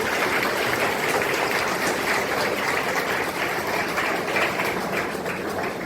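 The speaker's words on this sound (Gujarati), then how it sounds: "આપણે સૌ તેમનું તાળીઓથી સ્વાગત કરીએ" A gathering at an institution for blind residents claps steadily to welcome Valjibhai Rajgor and his family, a sustained, even wash of applause from many hands throughout.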